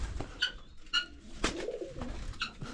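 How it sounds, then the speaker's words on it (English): Pigeons or doves coo in short, repeated calls close by, roughly every half second, over low background rumble with occasional faint knocks. "It's crazy. You have the birds even here."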